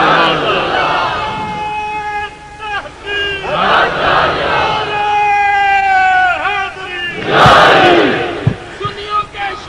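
A large crowd at a Sufi gathering at Naushahpur Sharif chants and shouts loudly in unison, with swelling waves of massed voices and an especially strong surge near the end, close and reverberant.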